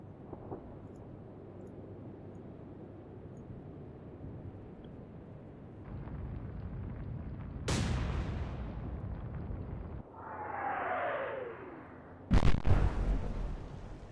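Naval gunfire in the Atlantic Fleet video game: a steady low rumble gives way to sharp, loud blasts, with one heavy boom near the middle, a whistling shell sweep after it and a final crashing burst near the end.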